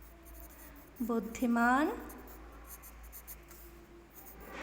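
Words written by hand during a Class 6 Hindi language lesson: a faint, steady scratching that runs under a teacher's short spoken word.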